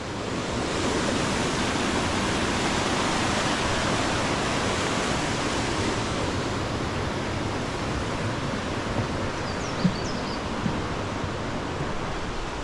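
A tiny river flowing along a loop trail near Lake Superior, a steady broadband rush of water without pauses, fairly soft and constant throughout.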